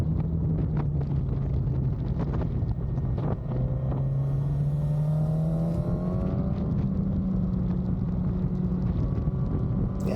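Motorcycle engine pulling hard on smooth tarmac on the open road toward Harwich, a steady rising drone under heavy wind rush, close and loud, with no voices.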